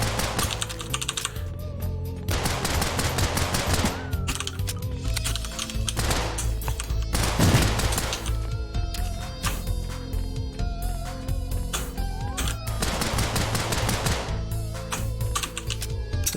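Rapid-fire shooting at enemies in the game Unholy Commotion comes as dense strings of quick clicking shots, firing in bursts separated by brief pauses, with a steady loud level throughout and a few heavier blasts mixed in.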